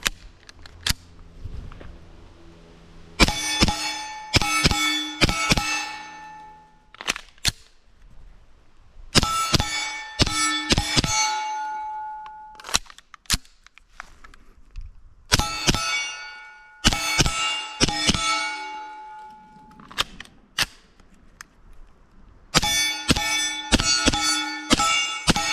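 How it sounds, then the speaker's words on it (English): Shots from a handgun fitted with a Rugged Obsidian 45 suppressor on a Griffin EZ-LOK mount, fired in several quick bursts of sharp, clanging reports with short pauses between groups, loud and close with no talking. "All right, now let's just do a little bit of shooting."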